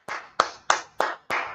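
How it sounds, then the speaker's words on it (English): A class of people clapping hands in unison, five sharp claps in a steady rhythm, close and clear with no talking. "Let's clap it up for the Lord."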